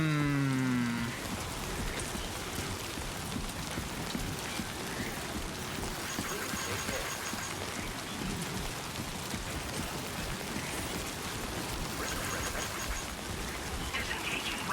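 Rain falls in the Death Stranding 2 game world as a continuous, even hiss of drops that runs for the whole stretch, after a brief tonal sound at the very start.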